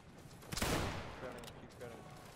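Musket volleys crack out in a Battle of Waterloo video game: one big crashing salvo, then scattered shots that trail off under faint background voices.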